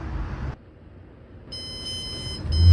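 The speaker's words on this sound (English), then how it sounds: "That alarm goes off" Electronic alarm clock going off, a steady high-pitched ringing tone that starts partway through after a brief hush and continues with a low thump at the end.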